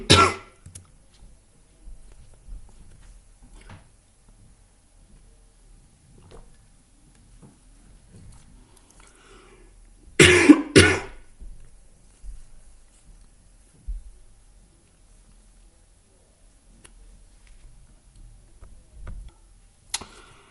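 A person gives a couple of harsh, close coughs and clears their throat in a brief burst, surrounded by long stretches of near silence with faint small noises.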